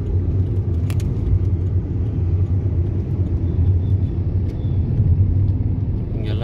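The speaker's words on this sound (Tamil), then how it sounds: "டிராஃபிக் நார்மலாகவே இருக்குது, கொஞ்சம் ஹெவியாகவும் இருக்குன்னு சொல்லலாம்." Heavy city road traffic on a Chennai street near the Saidapet court and Governor's residence, a steady dense rumble of engines holding loud and continuous, with faint metallic jingles and horn-like tones on top.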